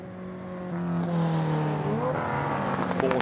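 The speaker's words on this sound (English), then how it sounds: "as Martin Stretton leans on the D-type Jaguar, turning out of Madrid corner" Jaguar D-type and Lister race cars at Goodwood roar past close by, the engine note rising and shifting as they power out of a corner, loud and sustained with no talking.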